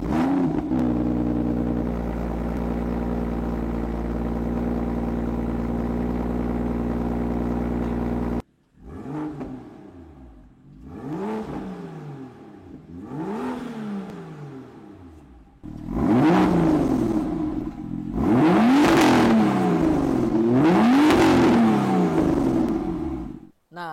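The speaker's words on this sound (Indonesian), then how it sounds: "tadi kalian udah lihat tuh bagaimana sangarnya suara dari N55 di BMW M2 tahun 2017 ini" A 2017 BMW M2 with an N55 engine idles steadily, then cuts out and restarts into a series of sharp revs that rise and fall, growing louder toward the end.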